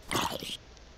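A video game wolf gives one short, bright yelp or bark, loud for about half a second and then cut off, leaving near silence.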